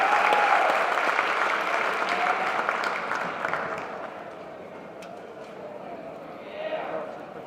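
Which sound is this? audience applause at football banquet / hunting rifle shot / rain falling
audience applause at football banquet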